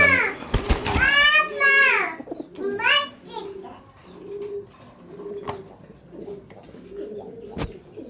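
Pigeons of improved breeds at a pigeon farm coo in a repeated soft rhythm, several low calls in a row, following an opening stretch of someone talking loudly up close.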